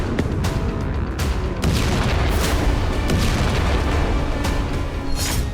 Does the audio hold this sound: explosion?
yes